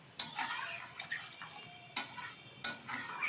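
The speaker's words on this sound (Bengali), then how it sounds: "দিয়ে দিচ্ছি পরিমাণ মতো জল" Water splashes into a pot of prawn curry with kundru and potato in a home kitchen, heard as several sharp pouring bursts with brief pauses between them, close and moderately loud.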